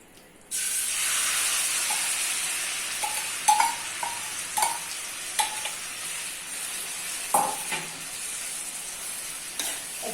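Chicken drops into a hot pan for Hyderabadi biryani with a sudden loud sizzle, then fries with a steady hiss. Occasional scrapes and knocks from stirring come through close up.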